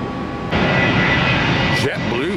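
Aircraft at Tampa International Airport, a loud steady jet engine roar with a sudden rise in intensity, heard from nearby while a voice talks over it.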